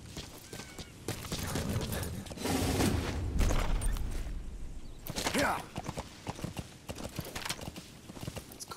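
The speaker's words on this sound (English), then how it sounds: "All right, go faster, horsey." Horse galloping in Metal Gear Solid V: The Phantom Pain, with steady rhythmic hoofbeats close by, a brief neigh-like burst and game sounds, under intermittent talk.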